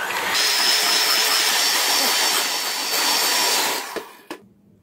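An electric mixer beats plain butter for vanilla cupcake frosting, a loud, steady motor whir running continuously for about four seconds before it switches off and a couple of faint knocks follow.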